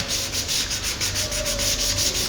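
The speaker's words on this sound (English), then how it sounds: "But I'll give it all a good sanding first." A smashed guitar headstock being repaired is sanded with 800 grit sandpaper, a close, loud, rhythmic rasping of quick back-and-forth strokes with no talking.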